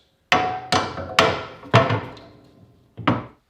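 The fence of a SawStop 3 HP industrial cabinet saw dropped onto its front rail during assembly, giving five sharp, close metallic knocks, each ringing briefly, unevenly spaced with a short gap before the last.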